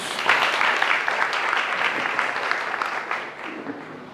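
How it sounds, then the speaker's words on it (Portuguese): Applause from a church retreat audience fills the space, a dense, steady wash of many hands clapping that carries on for several seconds before tapering slightly. "Pode aplaudir a palavra de Deus"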